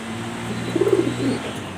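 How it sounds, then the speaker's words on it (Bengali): Anar-eyed Mili pigeons in a loft, a breeding pair kept with their chicks, give soft, low, throaty coos in a short wavering burst near the middle, over a steady low background hum. "অরিজিনাল আনার চোখের মিলি কবুতর বাচ্চা সহ ইনশাল্লাহ সেল করব"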